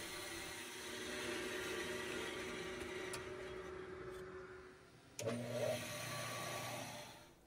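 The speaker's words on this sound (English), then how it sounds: "Now when I turn on my bandsaw, the power strip is energized at the same time." A bandsaw is switched on with a sudden jump in level, then runs with a steady motor hum, while a power strip tied to it energizes the dust collection at the same moment and a continuous machine drone fills the background.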